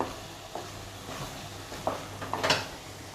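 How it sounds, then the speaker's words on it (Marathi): Ground coconut and jaggery are stirred in a pan until thick. Faint, soft scrapes and light sizzling come at scattered moments over a quiet background, with no talking. "बघा हे थोडेसे थो तुकडे थोडी पावडर व्यवस्थित असं परतून घ्यायचं घट्ट होईपर्यंत परतायचं आहे"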